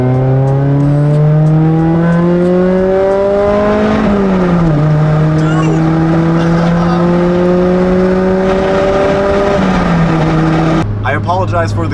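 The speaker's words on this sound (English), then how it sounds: "second gear V-Tec pull" A JDM sports car's VTEC engine revving hard through a second-gear pull, a loud rising drone that climbs, dips at a shift and climbs again. A voice talks over it, and the engine note drops near the end.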